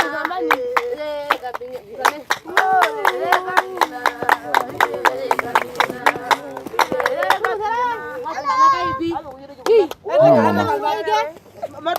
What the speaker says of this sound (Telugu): మా చప్పట్లు కొడుతుంటే ఎంత సౌండ్ వస్తుందో